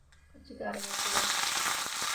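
Mustard seeds, two dried red chillies and curry leaves hit hot oil for a mango pachadi tempering: a brief quiet lead-in, then a sudden loud, steady crackling sizzle that fills the rest of the moment.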